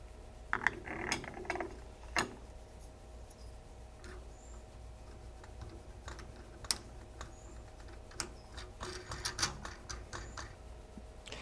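A threaded lock screws down onto the spindle of a VEVOR ultrasonic vinyl record cleaner holding six records, giving sparse ratcheting clicks and small plastic ticks at close range, quiet and irregular, without speech.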